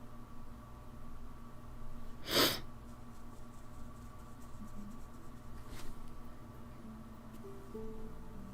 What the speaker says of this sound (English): My sniffles come and go.